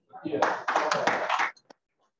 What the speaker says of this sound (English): Thank you for that thunderous applause.